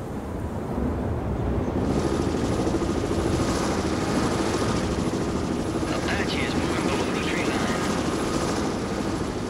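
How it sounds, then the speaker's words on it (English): Apache gunship helicopter flying in a combat video game, a loud continuous rotor and engine drone that fills the whole stretch without pause. "Apache gunship here, sir."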